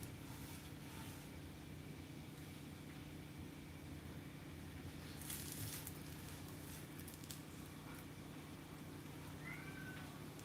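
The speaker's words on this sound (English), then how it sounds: "Yes, meow back to you, Fred." A faint cat meow sounds once or twice against a steady low hum and background noise, with no talking.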